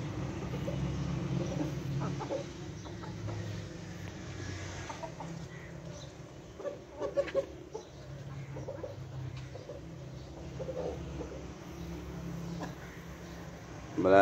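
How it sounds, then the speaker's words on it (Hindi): Black laying hens and a rooster in a poultry pen make a steady murmur of clucks and coos throughout, with a few sharper calls in the middle and a loud burst at the very end. "2 साल लगातार अंडे देने वाली मुर्गी जी।"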